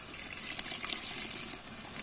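Water poured into a mixie jar, a short splashing trickle with small bright plinks, quiet and close, lasting about two seconds with no talking.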